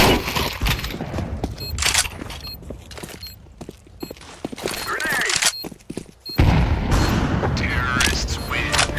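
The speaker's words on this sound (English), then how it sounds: "Grenade." A grenade explosion in Counter-Strike 2 booms loudly amid bursts of gunfire and footsteps during a competitive match, with a voice talking over parts of the action.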